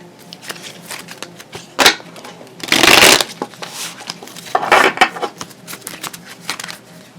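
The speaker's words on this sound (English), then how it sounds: "let me shuffle the cards" Tarot cards are shuffled close up in crisp, papery riffles and bursts, with louder flurries separated by softer handling and taps.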